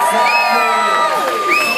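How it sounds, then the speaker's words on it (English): Wedding guests cheer and whoop for the couple at their first dance, a lively crowd of shouts and high excited voices rising and falling over a couple of seconds. "Give them a big round of applause."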